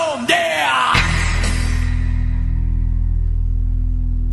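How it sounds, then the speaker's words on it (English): In a song, a 12-string bass is struck once, a heavy deep tone that rings on as a low sustained drone while the busier music above it fades out, loud and close. "That's the sound of a 12-string bass being hit."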